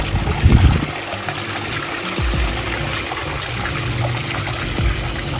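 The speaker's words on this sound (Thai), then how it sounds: "นี่ฮะเราจะมาปล่อยน้ำทุกช่องออกเลย" Water drains out of the compartments of a filter tank, a steady close trickle and gush that runs on without a break, with a louder splash near the start.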